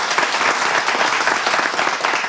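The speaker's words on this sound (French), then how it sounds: "Ça s'applaudit" Dense, lively applause from an audience at a conference, continuous and fairly loud throughout.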